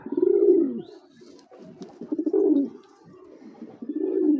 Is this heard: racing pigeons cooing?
yes